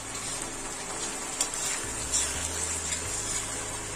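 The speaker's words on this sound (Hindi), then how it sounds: "हम प्याज को लाइट ब्राउन होने तक पका लेंगे।" Onion paste, made from two medium onions, frying over a high flame in a pan until light brown, with a steady close sizzle and some stirring scrapes throughout, no talking.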